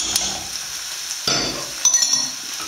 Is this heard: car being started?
no